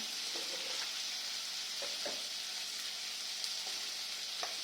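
A steady, fairly quiet sizzle of fried spices added into boiled dal seasoned with salt and turmeric, hissing continuously with a few faint stirring knocks.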